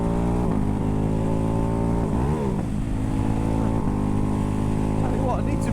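A Ducati Hypermotard 698 Mono single-cylinder motorcycle runs loud and steady, its engine note climbing and dipping through gear shifts, while the rider talks over it.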